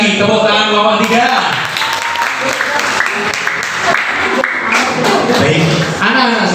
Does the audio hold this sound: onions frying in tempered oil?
no